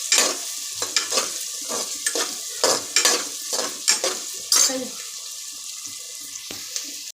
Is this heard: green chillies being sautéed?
yes